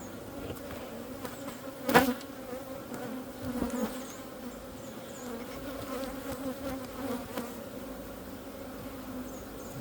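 A dense, continuous hum of many honeybees buzzing in a hive stirred up during small hive beetle treatment, with occasional louder bees passing close, steady throughout.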